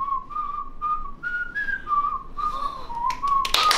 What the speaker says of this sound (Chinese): 口哨吹的最好的真的是导演